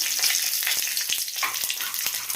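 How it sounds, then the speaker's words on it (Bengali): Steady, crackling sizzle of dry chillies and bay leaves frying in hot oil in a wok, loud and close, with a few sharp pops and spatters throughout and no talking. "ফোড়নে দেব শুকনো লঙ্কা তেজপাতা আর অল্প একটু গোটা দিতে"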